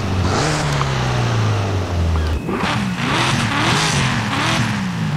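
Supercharged car engine in Forza Horizon 5 revs loudly and steadily, rising and falling in pitch with a brief drop midway, filling the whole stretch alone.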